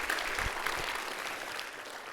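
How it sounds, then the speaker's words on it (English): Audience applause at the Fred Hollows inaugural lecture, University of Otago, honouring Dr. Setu of the Fred Hollows Foundation: a steady wash of many hands clapping at moderate loudness, continuing evenly throughout without voices. "How about another round of applause for Dr."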